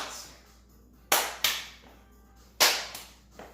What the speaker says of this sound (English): Or just 2 claps maybe